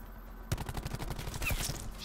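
Rapid bursts of video game gunfire crackle in a dense automatic volley, with sharp repeated shots close and loud after a brief quiet start.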